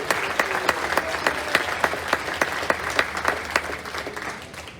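An audience on a cruise ship applauds steadily, a dense wash of clapping with sharper individual claps standing out, continuous and fairly close throughout.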